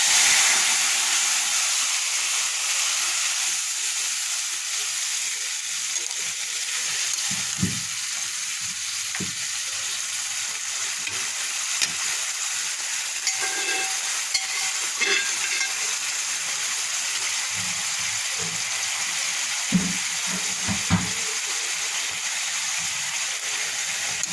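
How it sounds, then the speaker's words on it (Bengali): Boiled vegetables tipped into onions already fried in a pan for tempering, giving a steady loud sizzle with scattered stirring scrapes and knocks, no talking. "এবার ফোড়ন দেওয়ার জন্য পেঁয়াজ ভেজে নিয়েছি এবার সিদ্ধ করা সবজিটা এর ভিতরে দিয়ে দেবো"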